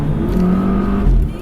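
Close, loud engine hum from a 2017 Volvo V60 Polestar, steady with a low exhaust pop near the end, brief and alone.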